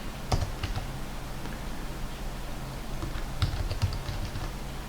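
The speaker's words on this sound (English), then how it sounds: "As always, I'm typing very badly." Fingers tap away at a computer keyboard during a C# coding session, irregular close clicks and keystrokes with a few sharper thumps, heard alone without speech.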